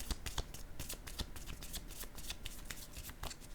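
Playing cards handled and laid down, a rapid series of crisp flicks and slaps close up, quiet with no talking.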